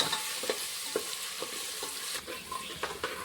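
Ginger garlic paste frying in a pan for tomato rice, a soft steady sizzle with several sharp stirring scrapes of a spoon against the pan, close and moderately quiet, with no talking.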